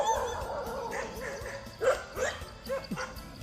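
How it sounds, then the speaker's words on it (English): Several dogs bark and yip in Thailand near a temple, a mix of distant and closer barks in irregular bursts over a busy outdoor background. "Hey doggy."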